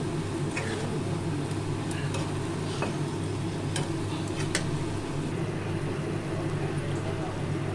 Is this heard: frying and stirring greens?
yes